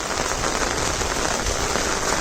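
Heavy monsoon rain in Konkan, a loud dense roar of downpour on surfaces and foliage, steady and unbroken, close around with no voices.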